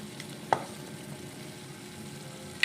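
Onion, garlic and tomato sautéing in a pan with a little sugar, a steady low frying hiss throughout, punctuated by one sharp utensil clink against the pan and another at the very end.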